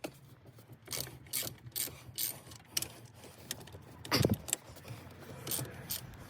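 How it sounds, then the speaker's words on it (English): A ratchet works a bolt loose on the gear linkage of a Triumph Spitfire, producing repeated quick clicking bursts with short pauses between strokes, close up in a quiet garage. "Now that's all removed, we're going to undo this bolt, and then there's two that side as well."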